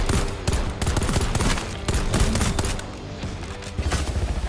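Gunfire in the video game EXOBORNE, dense rapid bursts of automatic shots and booms, loud and continuous for most of the stretch, easing off briefly near the end before more shots.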